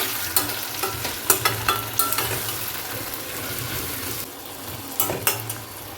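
Ground mustard, poppy seed, coconut and green chilli paste with turmeric, salt and a little sugar being sautéed for sim paturi, a soft sizzle under rhythmic spatula scrapes and taps against the pan.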